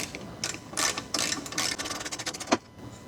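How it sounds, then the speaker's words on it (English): Mechanical ratcheting and metallic tool clicks while a bolt is worked loose on a 1986 Porsche 944 Turbo, a steady run of close, rapid clatter with a sharper knock near the end. "When I take this bolt out, this is going to get stuck up there."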